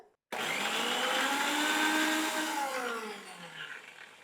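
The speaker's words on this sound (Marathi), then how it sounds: "हा बटाटा पाण्यासहित काढूया आणि मिक्सरला फिरून याची पेस्ट करूया" A kitchen mixer grinder blends boiled potato with water into a fine paste for vegetable soup, starting abruptly with a loud whirring motor roar that holds steady, then slowly winds down.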